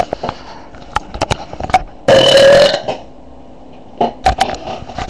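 A loud, drawn-out human belch of about a second rises mid-clip between quieter breathy sniffs and mouth clicks, followed by a few more short smacking sounds.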